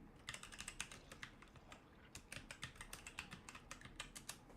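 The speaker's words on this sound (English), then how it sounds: "I'm just typing some notes" Rapid keystrokes on a computer keyboard, clicking in quick irregular bursts with a short pause midway, close and fairly quiet with no talking.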